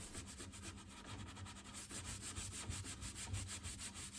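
Rhythmic scratchy scuff sanding of a dresser with a 150-grit pad over an interface pad, worked back and forth by hand, close and steady, with no voices.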